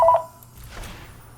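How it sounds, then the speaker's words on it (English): A telephone gives a short, loud electronic tone at the very start, then falls to a faint background hum for the rest of the moment. "I got the phone ringing again"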